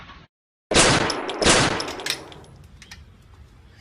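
A single loud gunshot cracks out after a short silence, followed by a second blast and a long, fading echoing tail.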